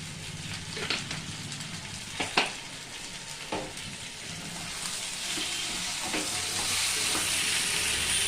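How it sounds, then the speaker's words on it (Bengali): Spices for khichuri sizzle steadily in a hot pan while a spoon scrapes and stirs, with a few sharper clinks early on and the frying hiss growing louder toward the end. "দিয়ে আবারও বেশ খানিক্ষণ আমি নেড়ে চেড়ে নেব"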